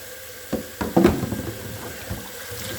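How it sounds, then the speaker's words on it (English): Juicer parts are rinsed in hot water at a sink, with a running-water hiss under a few splashes and clattering knocks of plastic pieces being handled close by. "so all this is coming clean now in the hot water"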